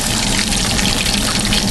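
Excess hot frying oil poured off from a pan while making chicken fried steak, a loud, close, continuous sizzling pour lasting the whole moment with no talk.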